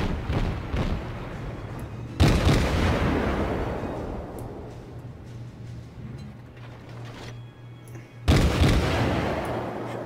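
Naval ship guns firing in World of Warships at tier 1: two loud, booming salvos about six seconds apart, each with a long rumbling decay over a steady low engine hum.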